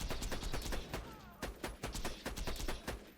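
Rapid bursts of gunfire, with bullets reflected back by enemies in a shooter video game, crack out in quick irregular volleys.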